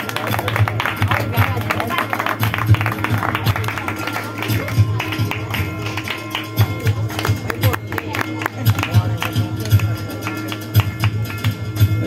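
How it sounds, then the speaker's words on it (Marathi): Audience applause welcoming a student at a community award ceremony for meritorious students, a steady, dense run of clapping from a hall crowd lasting throughout, with a low hum beneath. "टाळ्या वाजवून स्वागत करायचे आहे विद्यार्थ्याचं"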